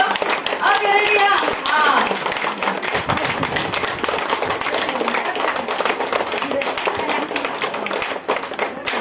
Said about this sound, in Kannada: ಹಾಗೆ ಅವರಿಗೋಸ್ಕರ ಒಂದು ಜೋರಾಗಿ ಕೈ ಚಪ್ಪಾಳೆ ಕೊಡಿ ನೋಡುವ